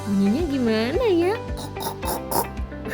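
A voice imitates a pig's oinking with a few rising, nasal grunts up close, followed by short speech-like bursts.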